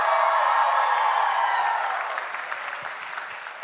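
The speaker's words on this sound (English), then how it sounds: "Can we have another round of applause for our first half of performances?" Crowd applause at a dance showcase after the first half of performances: a dense, loud wash of clapping that gradually thins and fades toward the end, with faint whoops in it.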